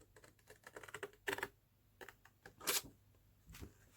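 Scissors snip through folded card paper in a series of short, crisp cuts and rustles, close and fairly quiet, with brief pauses between bursts.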